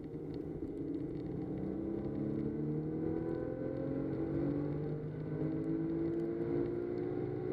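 B5 Audi S4 accelerating hard in third gear from about 4200 to 6500 RPM, a steady loud engine drone with harmonics rising continuously in pitch throughout, with no talk over it.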